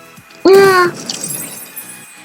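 Objects smashing in the Roblox game Destruction Simulator: one loud, sudden shattering crash with ringing glassy debris that fades over about a second, then quieter scattered clatter.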